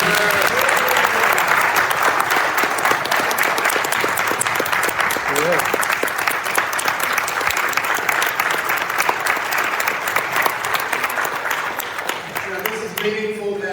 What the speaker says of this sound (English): let's give these candidates a round of applause